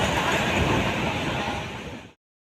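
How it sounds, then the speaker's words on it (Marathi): A Diva–Sawantwadi express train runs on the Konkan Railway, giving a dense, steady rumble and rattle heard from on board. It stays loud for about two seconds, then cuts off abruptly. "गाडी चालते बघा."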